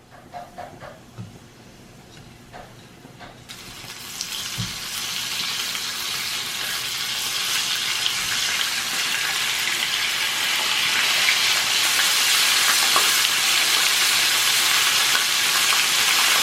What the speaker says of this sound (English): Mushrooms carry a high water content. So, you know, water and oil, when you put it together, you're gonna get a sound like this.